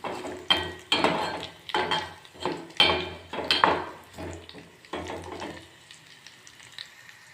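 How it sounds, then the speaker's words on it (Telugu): Dried red chillies, garlic cloves, onion, seasoning seeds and curry leaves frying in hot oil for a Telugu dal tempering, crackling in close, repeated bursts with utensil clatter, then dying down to a quiet sizzle. "ఇలా వేయించుకోవాలి."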